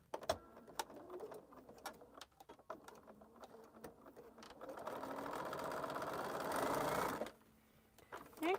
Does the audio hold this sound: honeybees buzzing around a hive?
no